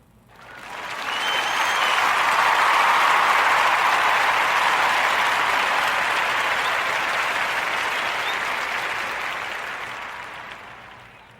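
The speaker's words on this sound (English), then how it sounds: "Narrative Podcast round of applause for her accomplishment as a real estate agent at the age of 18" Studio audience applause on a podcast, a dense burst of clapping that swells quickly, holds strong for several seconds, then slowly tapers off.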